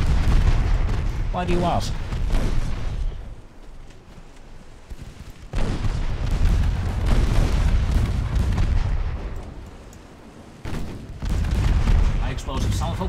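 Naval gun salvos boom repeatedly in the Ultimate Admiral Dreadnoughts warship battle game, heavy blasts with rumbling tails recurring across the stretch, one brief spoken line passing among them.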